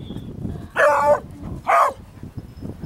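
An old dog barks twice, loud and close, each a short harsh woof spaced about a second apart, with quiet background noise between.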